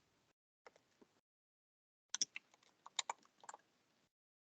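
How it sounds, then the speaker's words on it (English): Sparse keystrokes on a computer keyboard in a quiet room during an online team meeting, a few isolated taps followed by a denser burst of clicks, close and soft. "while she's typing that"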